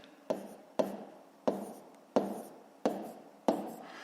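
Pen or pencil marks while a number is written down during a multiplication exercise, six short sharp taps at uneven intervals, each with a brief scratchy tail, close and quiet.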